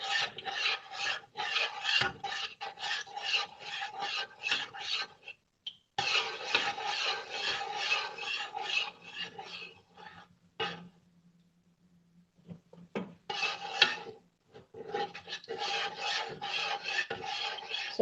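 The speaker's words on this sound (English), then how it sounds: "So just stir that up" Repeated scraping and rubbing of a spoon stirring a white vinegar mixture in a pot, steady rhythmic strokes up close with short pauses between bursts.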